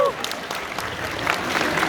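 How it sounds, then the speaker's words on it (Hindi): Audience applause at a Dum Mastam team gathering in London, a steady wash of clapping that holds for about two seconds right after a speaker's voice, moderately loud and filling the room. "इस बात पे ताली मारते होते हैं"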